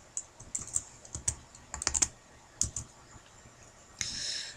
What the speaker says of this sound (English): I'm going to type in example.